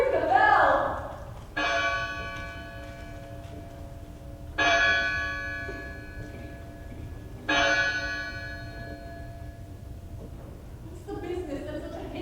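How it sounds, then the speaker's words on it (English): An alarm bell rings out in a staged performance of Macbeth: three separate, evenly spaced ringing strikes, each fading slowly, heard alone over a low ambient hum. "Ring the bell!"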